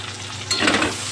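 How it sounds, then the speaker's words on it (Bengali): Okra and potatoes frying in a pan of oil, a soft hiss that swells into a louder, fuller sizzle halfway through, with no voices. "ভেন্ডি আলুটা আমি একটু আলাদা করে তো ভেজে নিই"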